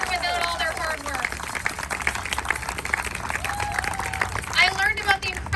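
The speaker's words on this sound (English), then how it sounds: "can we give them a round of applause?" Rally crowd outdoors at Queens Park breaking into applause, a wash of clapping mixed with cheers and whistles, with voices carrying through the crowd noise.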